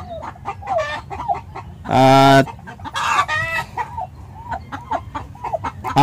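Four turkeys and a chicken cluck and chatter close by, with one loud, drawn-out call in the middle, while someone speaks briefly over the birds.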